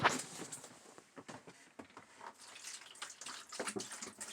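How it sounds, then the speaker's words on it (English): Water splashes and gurgles as about half a gallon is poured from a jug into an off-grid shower in the woods, a soft, uneven trickling with bursts of pouring, fairly quiet and close. "basically a half a gallon of water. I'm going to pour this right down in here."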